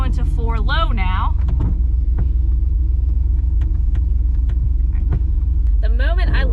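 LS-swapped Jeep Wrangler creeping along in 4 low, a deep steady engine rumble close inside the cab, with someone talking briefly at the start and end.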